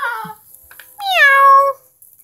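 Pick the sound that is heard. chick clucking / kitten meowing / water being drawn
kitten meowing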